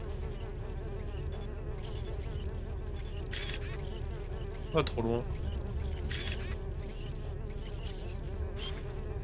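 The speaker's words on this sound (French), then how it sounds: "Et les mouches qui font chier en fait, ça j'ai l'impression." Insect flies buzz in the video game Beyond Good and Evil, a steady close drone under someone speaking French, with camera-like clicks and a brief rising whine midway.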